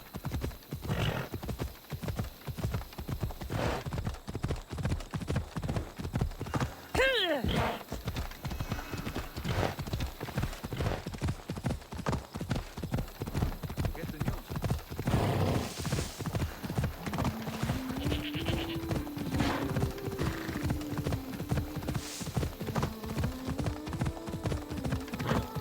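A horse's hooves clip-clop in a steady, close rhythm in Assassin's Creed Odyssey, with a brief whinny partway through and a voice talking over the later stretch.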